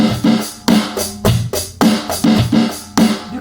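A close, loud drum kit plays a groove: punchy kick and snare hits with a quick one-handed snare roll woven into the steady beat.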